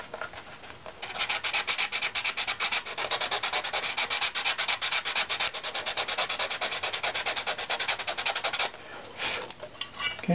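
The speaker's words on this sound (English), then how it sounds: "So let's use our sandpaper here to sneak up on this." Sandpaper rubbed across a wooden guitar top plate strip: close, steady rapid back-and-forth scratching strokes that start after a second and run continuously for about eight seconds before easing off, with no talk.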